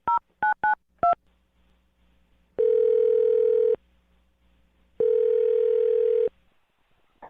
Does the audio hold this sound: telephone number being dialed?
yes